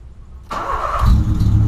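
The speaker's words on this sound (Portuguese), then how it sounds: "na primeira partida vocês vão ver como ficou a diferença" A Volkswagen Polo engine with a straight exhaust cranks and fires up, then settles into a loud, deep, rumbling idle with a raw, unmuffled exhaust tone, close by.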